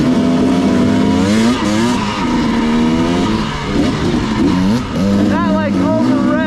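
A dirt bike engine revs hard and continuously on a ride on the Uncompahgre Plateau, pitch sweeping up and down through repeated accelerations, loud and close.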